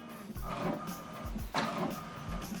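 A home inkjet-style printer running an alignment page, with mechanical whirring and repeated short clunks and feed pulses at close range, steady and without speech.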